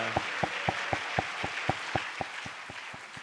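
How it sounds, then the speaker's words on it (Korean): Applause at an Easter Sunday neighbourhood concert in a church, with a single crisp clap repeating at an even pace over a soft wash of scattered clapping that fades slightly toward the end. "우리 다시 한번 큰 박수로 이렇게 감사하겠습니다"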